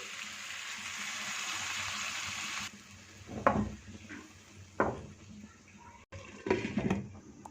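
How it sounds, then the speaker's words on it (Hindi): Water poured into chicken mince frying in a pan, a steady hiss that cuts off, followed by scattered clatters and stirring sounds of utensils nearby. "इसके साथ ही इसमें 200 ml 1 कप पानी शामिल कर देंगे।"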